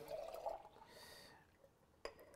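Water runs into an emptied glass tomato jar while braciole cooks, a short filling gurgle at the start that fades to a quiet trickle, then a brief clink near the end.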